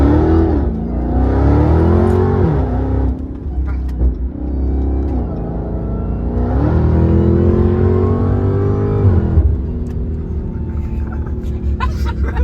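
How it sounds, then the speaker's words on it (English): A Dodge Hellcat's supercharged V8 revs hard and accelerates, loud and close, with two long rising pulls that each end in a drop back to a deep idle rumble, plus faint voices underneath. "This is a Hellcat. And listen."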